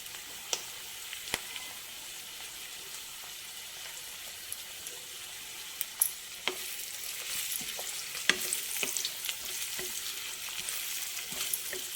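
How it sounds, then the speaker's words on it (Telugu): Onion with ginger garlic paste frying for mutton keema gives a moderate, even hiss of oil, with scattered clicks of a spoon stirring that grow a little busier toward the end. "ఇవన్నీ కొంచెం బాగా వేగాలి."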